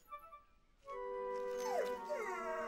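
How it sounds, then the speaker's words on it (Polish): Rescue dog in a cartoon, heard as a faint sniff at the start and then a long, clear, rising and falling howl with a second wavering howl after it, near and alone. "To tylko pies. Pies ratownik."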